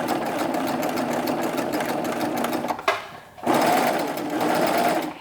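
A serger sewing machine stitches knit fabric in a steady, loud mechanical whir that runs continuously, pauses briefly near the middle, then resumes at full speed.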